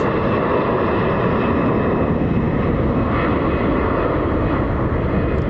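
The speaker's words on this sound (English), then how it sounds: "We got a United 737 taking the runway right now." A United Boeing 737 airliner takes the runway at Columbus John Glenn airport, its jet engines giving a loud, steady, broad roar close by, with no voices.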